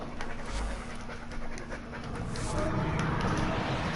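A dog pants heavily and steadily up close, rapid rhythmic breaths continuing throughout with a brief whimpering edge, loud against a faint room background.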